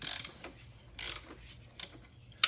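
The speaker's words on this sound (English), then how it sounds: "I just want to loosen them up." Ratchet wrench loosening engine mount bolts on a Chrysler 200, a few short bursts of bright ratcheting clicks spaced apart, close by, with no speech.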